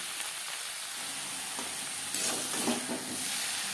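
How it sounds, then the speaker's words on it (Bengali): Ridge gourd and potato pieces are stirred in a frying pan over high-to-medium flame, giving a steady sizzling hiss with brief scraping stirs near the end, close by, with no voices. "হাই টু মিডিয়াম ফ্লেমে 3-4 মিনিট নাড়াচাড়া করে দেবো।"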